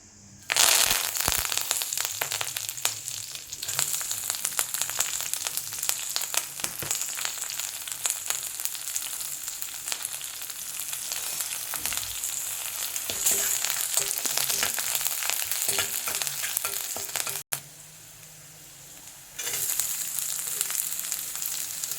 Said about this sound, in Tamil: இப்போ கொஞ்சம் கடுகு. இது கடுகு வெடிக்கட்டும்.